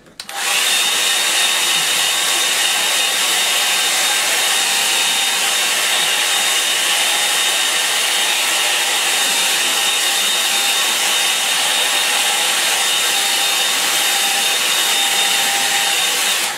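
Hair dryer blowing steadily at close range to dry watercolour paint on a landscape painting, a loud continuous whoosh and whine lasting the whole time with no talking.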